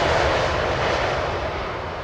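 British Airways airliner at Heathrow Airport, a loud steady engine roar heard close, fading only slightly over a couple of seconds, with no voices.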